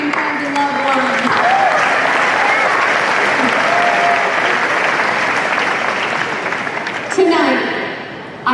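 Sustained applause fills a high school commencement crowd, loud and steady throughout with a dense clatter of many hands, a few cheers and whoops rising near the end.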